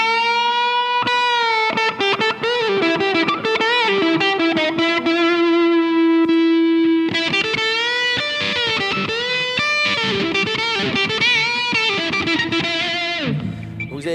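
An electric guitar played through a Vox Cooltron Bulldog distortion pedal gives thick, saturated sustained chords and riffs with quick strummed attacks, loud and continuous, with a brief change in tone near the end.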